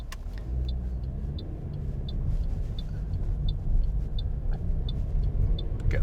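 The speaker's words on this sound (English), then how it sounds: "Here we are in a Toyota Corolla, which is a go-get, which is like a car share system in Sydney" Inside a Toyota Corolla car-share car while driving in Sydney, a steady low road and engine rumble fills the cabin, with a faint regular ticking, likely an indicator, over it.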